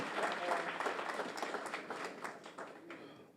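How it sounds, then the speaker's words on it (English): Audience applause at a community re-entry program graduation ceremony, a sustained, fairly even patter of many hands that thins slightly toward the end. "Let us give her another big round of applause, please."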